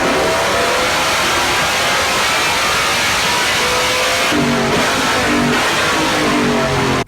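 An E46 M3 BMW Motorsport race car with a sequentially shifted, cross-plane S550 B40 4.4 stroker engine revs loudly and close, a harsh, continuous roar with a brief shift in pitch near the end.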